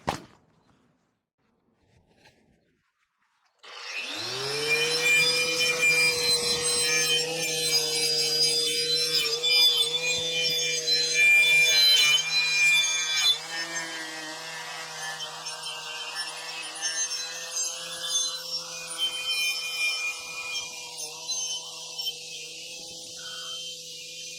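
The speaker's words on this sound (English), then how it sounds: "So I'm going to start sanding this back." A power sander spins up after a brief quiet moment, then grinds steadily against rusty metal on a Hayter Harrier MK1 lawnmower, stripping it to bare metal, with a whining tone that dips slightly as pressure changes.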